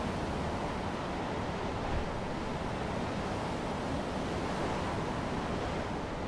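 Ocean surf and waves make a continuous, even wash of noise, steady and fairly faint, with no distinct breaks or voices.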